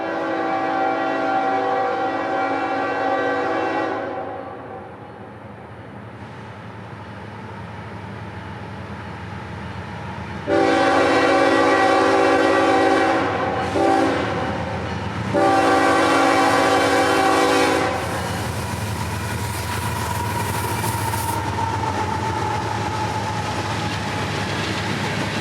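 Freight train B241 sounds its multi-tone horn in several long blasts at a double crossover on a Florida rail line, while its engines throttle up into a steady heavy rumble and the cars roll past close by.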